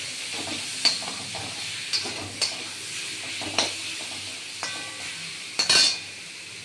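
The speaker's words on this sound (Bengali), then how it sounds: "সামান্য হলুদ আর একটু সামান্য নুন দিয়ে সুন্দর করে ভেজে নেব" Mango pieces frying in a pan with turmeric and salt: a soft, steady sizzle broken by sharp clinks and scrapes of a spatula stirring against the metal, close and without talk.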